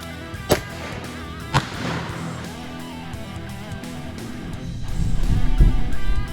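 A 12 gauge shotgun loaded with double-aught buckshot fires two sharp, loud reports about a second apart, followed by ringing ambience and a low rumbling thump.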